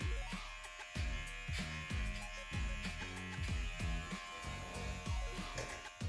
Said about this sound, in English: now you're gonna come with your one guard on the clippers